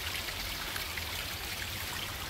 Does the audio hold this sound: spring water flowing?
yes